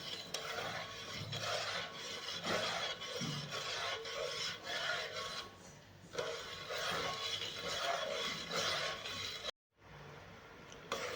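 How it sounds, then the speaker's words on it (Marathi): A spoon scrapes and rubs against the bottom of a pan while sugar syrup is stirred until the sugar dissolves, close repeated rasping strokes in a steady rhythm, broken by a brief pause. "चमच्याने आपली साखर विरगळेपर्यंत छान असं हलवून घ्यायचं आहे"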